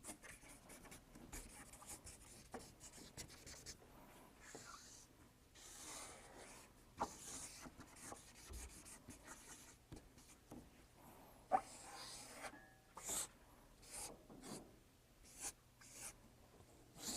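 A pen scratches short strokes on paper, quiet intermittent scribbling and rubbing bursts close by, with occasional faint background noise and no talk.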